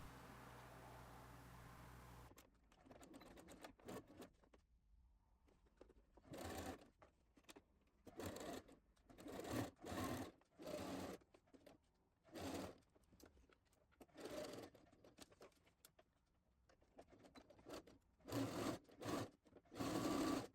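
A sewing machine stitches the side seam of a dress from armhole to hem, running in repeated short bursts with brief pauses between, close and moderately loud.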